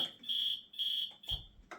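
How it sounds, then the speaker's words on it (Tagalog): A fire or smoke alarm beeps in long, loud, steady high-pitched tones, three sustained blasts with short gaps, ringing out alone with no talk. "I will shut off my alarm"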